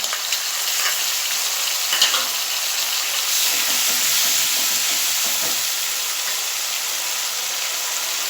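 Loud, continuous sizzle and crackle of onion paste frying in hot oil, close up, with faint stirring sounds partway through.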